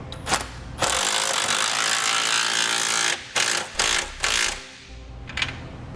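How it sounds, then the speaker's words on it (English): A power tool drives base plate kit hardware bolts on a 2018 vehicle during a Roadmaster crossbar-style base plate install, with a long loud whirring run, then several short bursts and a final brief zip. "And now we'll tighten down the hardware."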